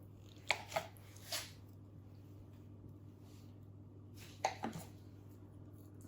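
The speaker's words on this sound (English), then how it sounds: "Get your cheese and just cut it in a slice" A knife cuts slices of Reblochon cheese, a few soft, short thuds against a board, spaced apart with quiet gaps and a steady low hum underneath.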